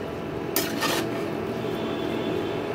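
A lid set onto a cooking pot while a vegetarian drumstick (sajne data) curry cooks, giving a short metallic clatter and a brief scrape, then a steady quiet kitchen hum.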